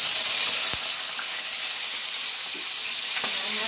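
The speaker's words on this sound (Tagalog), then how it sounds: "ilalagay ko na po yung ating baboy, yung pork chop. Piprito muna natin" Marinated pork chop frying in hot oil in a pan, a loud constant sizzle and hiss with a couple of faint utensil clinks, no voices.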